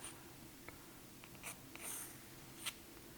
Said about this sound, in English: I'm going to do a quick drawing of this